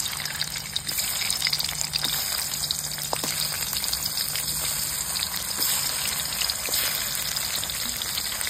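Marinated katla fish heads fry in hot mustard oil, a constant bubbling, crackling sizzle held at an even level throughout, close by and unaccompanied by speech.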